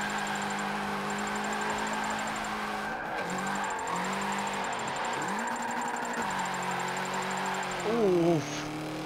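A BMW M5 engine in the Forza 7 racing game revs and sweeps up and down through gear changes, holding steady then dipping, with a faint tire squeal near the end and someone talking over it.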